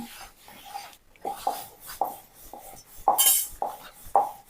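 A cloth wiping a pan used for frying rotis, heard as a series of short, close rasping rubs at a quick, uneven rhythm, about eight strokes, with no talking.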